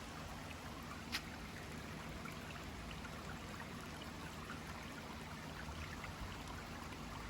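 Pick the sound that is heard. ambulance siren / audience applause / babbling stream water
babbling stream water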